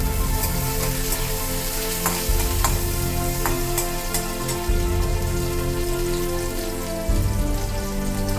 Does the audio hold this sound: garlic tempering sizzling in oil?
yes